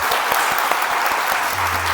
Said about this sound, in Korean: 하나님께 영광의 박수 함께